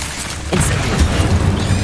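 A loud, close fiery blast from the Incendio spell in Hogwarts Legacy bursts in with a deep boom and keeps rumbling after a short quiet lead-in.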